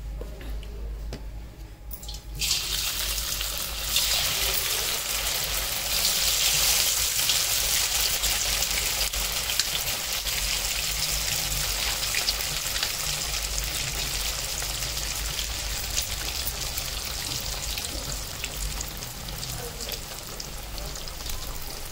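Cabbage fritters (kobichya vadya) deep frying in hot oil, sizzling and crackling steadily in a pan, a continuous dense hiss with small popping bubbles that goes on throughout.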